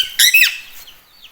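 A parrot gives one short, shrill squawk close by, followed by a faint trailing chirp.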